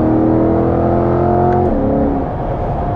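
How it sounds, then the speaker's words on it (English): A 2022 Chevrolet Corvette C8 in C8-R Edition trim pulls hard in third gear, a loud, steady engine roar with rising pitch that suddenly drops as power cuts at the rev limiter. "Third gear pull."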